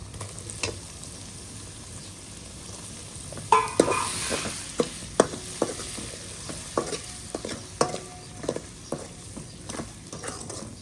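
Chilli frying in hot oil for a fish dish as tomatoes go into the pan: a continuous sizzle, then a burst of louder spitting and repeated spatula scrapes and knocks against the pan, close up.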